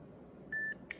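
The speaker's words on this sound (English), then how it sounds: "you hear that beep." A Micro Educator ME-300 e-collar remote gives a single short electronic beep while being reprogrammed, followed by a brief fainter chirp, clear and close against quiet room noise.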